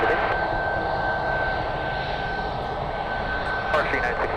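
A Lufthansa airliner taxis to its gate at San Francisco airport, a steady, fairly loud jet engine whine and rumble holding constant throughout with a thin high tone, and brief clatter near the end.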